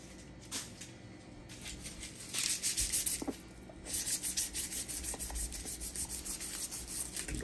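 Orange bell pepper skin is scuffed to roughen its texture before grilling for steak kabobs, giving close, rhythmic dry rubbing strokes in quick repeated bursts.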